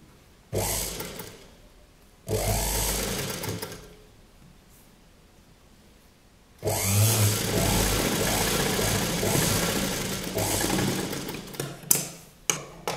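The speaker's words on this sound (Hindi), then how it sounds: "इसी तरह से हम यहाँ पर भी ये वाले पार्ट को भी रखकर सिलाई लगा लेंगे।" A sewing machine stitches part of a ball gown in loud whirring runs, two short bursts and then a longer steady run, with quieter pauses between them.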